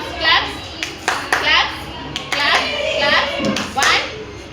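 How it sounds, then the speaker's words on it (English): A few sharp hand claps from a child during an occupational therapy session, spaced irregularly among a child's vocalizations and an adult's voice talking nearby. "Clap."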